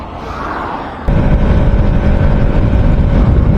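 Motorbike cruising on a highway during a long 180 km ride, steady engine drone and rushing wind noise, jumping louder after the first second and holding constant close to the rider.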